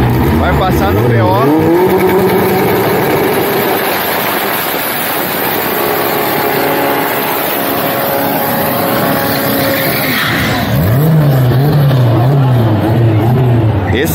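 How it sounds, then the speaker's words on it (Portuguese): A car at a burnout event in Balneário Camboriú's Área 41 revs hard with roaring, rising and falling engine pitch throughout, loud and close, with a crowd and voices talking over it. "Esse aí é o Jaldaça derretendo no burnout."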